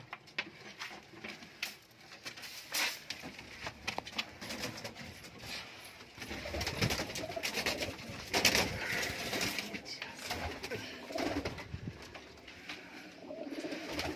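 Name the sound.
Giribaz pigeons cooing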